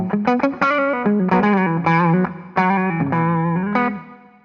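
An electric guitar through a JAM Pedals Rattler MKII overdrive set to asymmetrical clipping plays a short, punchy phrase of sustained notes with crunchy distortion and a clear pick attack.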